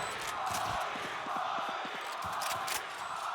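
An esports arena crowd at VALORANT Champions cheers and chants as a distant, roomy roar, while a caster talks over the noise.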